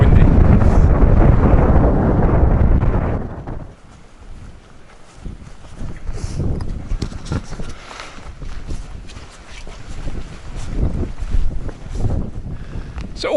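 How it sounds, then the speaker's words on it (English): Strong gusts of wind on a mountainside buffet the microphone in heavy roaring bursts, easing briefly before building again. "Oh, it's windy."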